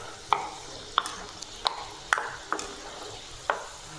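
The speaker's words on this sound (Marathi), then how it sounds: "गॅस मोठा करायचा शेंगदाणे छान खरपूस तळून घेते बघा" Peanuts frying crisp in hot oil for Diwali chivda, a soft background sizzle broken by about seven sharp metallic clinks of a spoon against the pan, spaced irregularly and close by.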